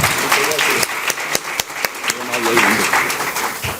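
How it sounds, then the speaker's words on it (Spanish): An audience claps to welcome a speaker onto a stage, scattered hand claps over a steady crowd murmur, with voices talking through the brief applause. "Un aplauso, por favor."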